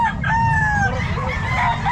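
A rooster gives a single drawn-out crow at a busy pet market in Calumpit, loud and close over a steady murmur of background noise.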